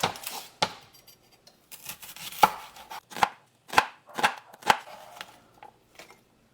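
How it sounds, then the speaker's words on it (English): A knife thinly slices a white onion on a cutting board in a series of sharp, crisp chops, a few irregular strokes followed by steadier ones. "I'm gonna thinly slice a white onion"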